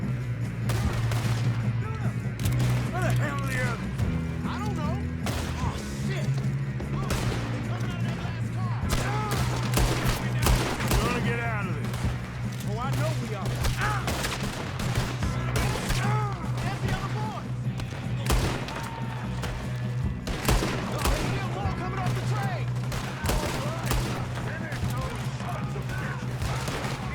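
Near-constant gunfire fills a Red Dead-style video game shootout during a train robbery, with sharp shots crackling over a steady low rumble while voices talk through it.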